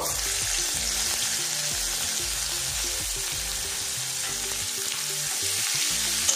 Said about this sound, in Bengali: এবারে এর মধ্যে সামান্য পরিমাণে পেঁয়াজ কুচি দিয়ে দেব।